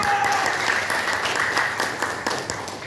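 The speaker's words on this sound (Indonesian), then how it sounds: "Tepuk tangan sekali lagi" Audience applause at a motivational religious lecture by an ustaz, a full, sustained wash of clapping from a large crowd that holds steady and eases slightly toward the end.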